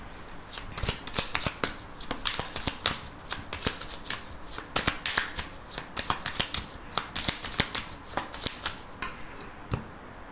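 An Oracle de Bélline card deck is shuffled by hand over about ten seconds, a close, rapid run of crisp riffling and slapping card sounds with brief pauses and no speech.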